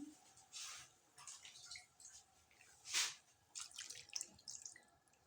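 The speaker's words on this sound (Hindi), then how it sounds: "अभी इसमें मैंने 1 से 2 ग्लास पानी ऐड करनी है।" Water poured from a glass into a cooking pot of chicken for jeera chicken, faint splashing and dripping in short bursts with one louder splash midway.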